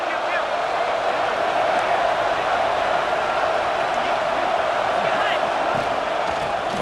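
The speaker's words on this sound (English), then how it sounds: "Listen to the crowd energy here in the early going." Stadium crowd at a Michigan vs Oregon college football game: a dense, continuous roar of cheering and shouting from a large crowd, steady and loud throughout, with a commentator's voice over it.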